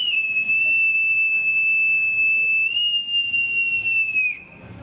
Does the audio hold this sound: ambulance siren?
no